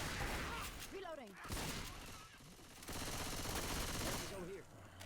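Shotgun fire in a 4v4 competitive shooter match, booming blasts in a dense burst at the start and again around the middle, layered with voiced game chatter and a busy game soundtrack.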